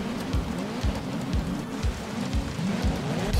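Rain falls steadily during a race in the video game Grid Legends, a dense wash of drops with rhythmic low thumps from the car beneath it, no talk.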